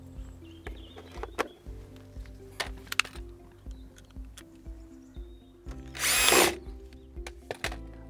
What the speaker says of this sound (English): I'm now going to drill a hole through the wall to bring the power supply out of the fan.